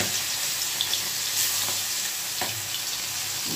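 Fish frying in a pan gives off a constant dense sizzle and crackle with a few soft pops, close and unaccompanied by talk.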